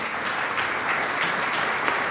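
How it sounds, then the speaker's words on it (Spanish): A church congregation at a Sunday service gives a brief burst of continuous applause, dense and fairly loud from start to finish. "Denle un aplauso"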